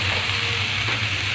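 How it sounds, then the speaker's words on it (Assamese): Chopped cabbage hitting a pan of frying onions and turmeric for a cabbage and coconut bhaaji, a loud, close, steady sizzle with a low hum underneath and no talking. "এতিয়া ইয়াত আমি এই কাটি থোৱা কবিখিনি দি দিম"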